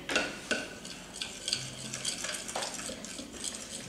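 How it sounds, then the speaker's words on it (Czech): A sticky slime of wood glue is stirred in a container, giving repeated wet scraping and squelching strokes with light clinks of the utensil, close and steady. "tak to zamíchej"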